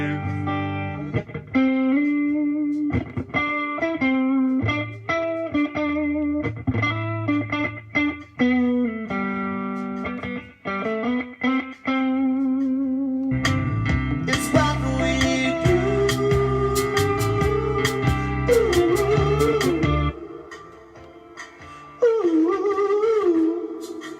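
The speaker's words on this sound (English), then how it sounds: "So that distortion is on the vocal." A distorted vocal sings over a band mix with electric guitar in a live session, gritty and loud with sustained notes, then a denser full section before dropping away.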